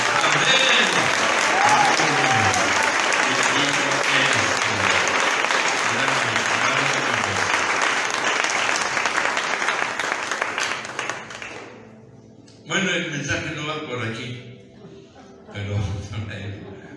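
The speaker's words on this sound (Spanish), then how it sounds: "Den el aplauso más fuerte al Eterno." A church congregation bursts into loud, sustained applause that fills the room for about twelve seconds, then drops away abruptly as a voice resumes speaking over a few scattered claps.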